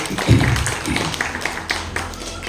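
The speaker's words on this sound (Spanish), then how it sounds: "Muchas palmas, amados hermanos." A church congregation clapping, a brief burst of hand claps and scattered taps that fades quickly, with faint voices underneath.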